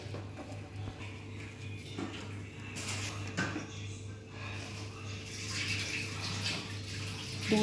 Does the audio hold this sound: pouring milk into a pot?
yes